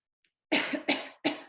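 Three sharp coughs in quick succession, close and loud, each a short burst.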